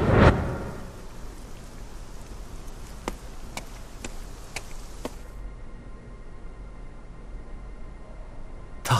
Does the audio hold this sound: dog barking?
no